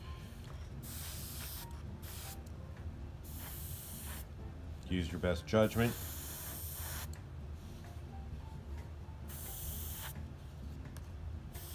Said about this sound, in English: We're spraying between about 10 and 15 psi. The sound that you hear is the air hitting the surface.